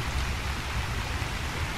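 Steady, dense pouring rain hisses continuously in the fantasy video game Enderal, a Skyrim total conversion, heard alone while crossing a bridge.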